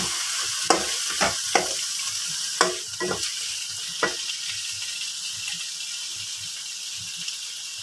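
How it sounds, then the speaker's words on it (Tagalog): Chicken sautéing in a pan for miswa with patola, a steady loud sizzle punctuated by several sharp scraping strokes early on that settle into an even hiss, no talking. "isunod na natin yung chicken. At muna siyang igigisa"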